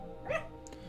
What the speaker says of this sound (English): That noise is Little Bear Ruckus barking.